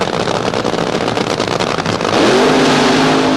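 Funny Car drag racing cars from 1976 accelerating down the strip, a loud, dense engine roar that swells and climbs in pitch as they launch, heard from close by with no voices.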